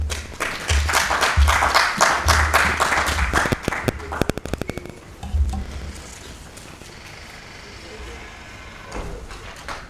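Conference audience breaks into applause after a presentation, a dense burst of clapping that thins into scattered claps and fades, with a voice speaking over the end.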